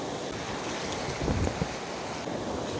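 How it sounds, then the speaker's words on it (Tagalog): Wind blowing on the seashore of Catanduanes island while fishing, a steady broad rushing roar with low buffeting gusts against the microphone, constant and close. "Medyo may hangin."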